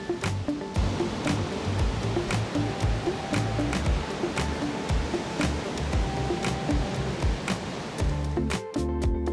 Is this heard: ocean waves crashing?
yes